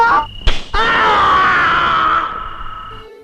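Two men in a classic pop-era film let out a long, loud anguished scream after a couple of sharp impact thumps, the cry sustained for over two seconds before trailing off.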